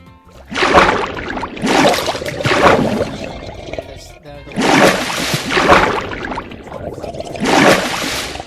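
Water splash effects from Minecraft Xbox 360 Edition come in bursts of sloshing, splattering water, several rising and falling swells with short gaps between them, fairly close and loud.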